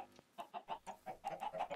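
Chickens in a video game, a quick series of soft, faint clucks in an uneven rhythm, heard alone.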